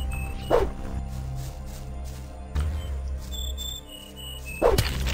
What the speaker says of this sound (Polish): A tamto nie są wilki, to są orkowe psy